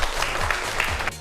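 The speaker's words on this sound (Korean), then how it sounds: "두 분에게 박수 한번 부탁드리겠습니다." Studio audience clapping on a Korean science talk show, a steady patter of applause at moderate volume that continues to the end.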